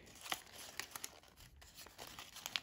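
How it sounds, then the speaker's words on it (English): Paper folded for an origami rolly polly gives faint, close crinkles and crisp creasing snaps scattered irregularly, quiet and without talk. "Now fold that down."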